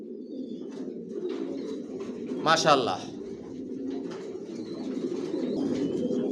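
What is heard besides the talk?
Johnson long-line racing pigeons cooing in loft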